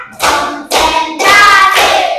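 Four loud, evenly spaced hand claps sound close by in a classroom teaching session, each crisp strike about half a second apart in a steady counting rhythm, with no voices over them.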